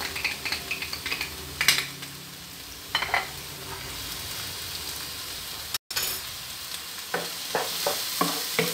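Garlic cloves and onion frying in a pan, a steady soft sizzle with occasional stirring scrapes and clinks, close and continuous with no talk.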